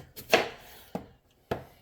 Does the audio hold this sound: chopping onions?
yes